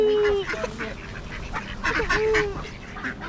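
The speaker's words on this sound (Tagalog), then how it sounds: "Those are ducks, Steve. Those are ducks." Ducks at feeding time give a few nasal, honking quacks close by, scattered over a busy outdoor background.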